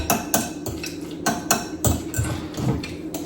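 A spoon stirs a lobster egg roll filling with garlic in a bowl, giving repeated scraping clinks at a steady rhythm, close and fairly loud, with no talking.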